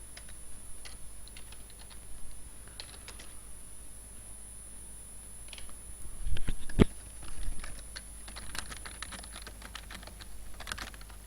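Keyboard typing while writing Python code, quiet scattered keystrokes in irregular bursts with a slightly busier flurry near the middle, alone against faint background hiss.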